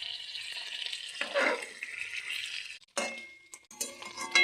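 Frying pieces flipped over one by one in a pan of oil on a low gas flame, giving soft clinks and scrapes over a steady sizzle, with a brief pause and then more clatter.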